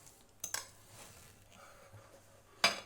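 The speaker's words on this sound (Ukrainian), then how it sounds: "Перемішуємо. Добре. Вимішуємо." A sandwich spread of processed cheese being stirred in a bowl with a spoon, giving a few soft clinks and scrapes against the dish, with one sharp knock near the end.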